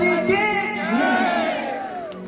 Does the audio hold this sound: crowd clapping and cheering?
yes